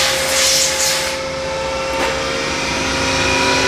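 A Takisawa EX-108 CNC turning center running a machining program, loud and close, a dense steady whir with a sustained tonal hum and brief swells, no talk.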